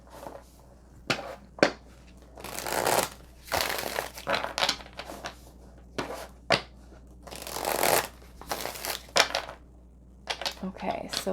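Tarot cards shuffled by hand for a card reading: repeated riffling and slapping bursts in an irregular rhythm, close and clear, with a voice speaking quietly between them.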